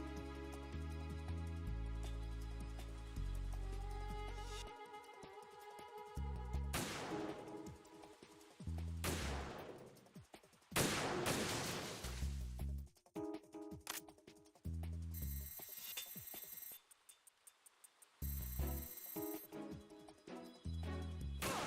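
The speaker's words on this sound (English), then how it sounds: "I'm going to show you how sniping should be handled" Sniper rifle shots fire through a PSG-1 scope in Metal Gear Solid 2, a handful of sharp, loud cracks spaced several seconds apart over game music and tones, with no voices.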